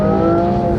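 Aston Martin Vanquish V12 engine from the 2025 model, a loud, steady, close-up drone with strong low-end harmonics and a sustained rev, uninterrupted throughout.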